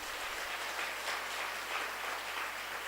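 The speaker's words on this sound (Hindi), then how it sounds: "जोर से ताली बजा दीजिए।" Audience applause at a Christian worship gathering, a steady wash of clapping that fills the whole moment at moderate loudness with no voices over it.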